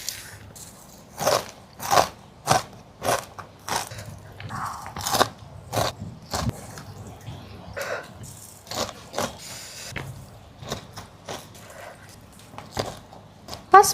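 Crunchy potato crisps with dendeng being bitten and chewed, loud close crunches in a steady rhythm of about a dozen bites with brief pauses between, no talking.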